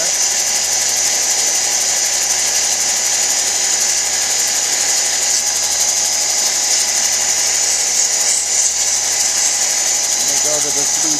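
A lapidary wheel sands the back of a stone cabochon with a steady, loud motorized whir and grinding hiss that holds evenly throughout, while a person speaks over it.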